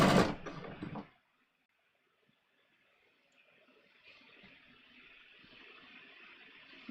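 Sewing machine stitching through the layered denim of a jeans waistband, a loud burst of close machine running for about a second, followed by a quiet low hum with faint handling.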